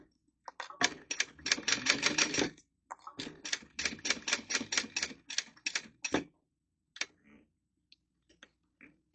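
A sewing machine stitches up the sides of a small fabric wristlet in rapid bursts of clattering needle strokes, pausing briefly between runs and ending in a few scattered single clicks.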